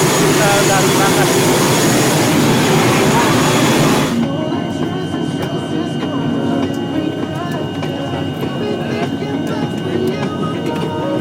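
ATR 72-600 turboprop engines drone loudly inside the cabin, then the roar abruptly drops to a steadier, quieter hum with a tonal whine; someone talks over it.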